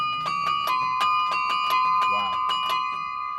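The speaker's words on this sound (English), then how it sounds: "I have 35 bells and I can play them with either my hands or my feet" Bright, ringing bells, a set of 35 played with hands and feet, struck in a quick melodic run, notes overlapping and sustaining, with a steady hum beneath.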